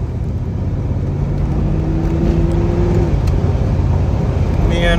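1979 Corvette accelerating on a test drive, its engine a loud, steady rising drone close up with road noise throughout.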